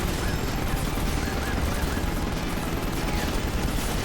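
Steady, continuous gunfire from the video game Final Fantasy XV Episode Prompto, a dense unbroken stream of shots over game noise with no gaps.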